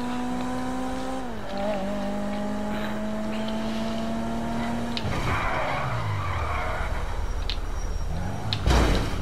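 A beat-up car in a video game revs with rising engine tones, then skids and slides with a broad screech and scrape, loud and continuous, ending in a sharp impact.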